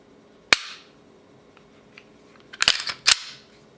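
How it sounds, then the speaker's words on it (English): A stock Glock 19 Gen 5 pistol being dry-fired gives a sharp, close click, then after a pause a quick cluster of mechanical clicks and rattles as the slide is worked and the trigger resets, ending in another crisp snap. "A lot of people doesn't like the Glock 19 trigger."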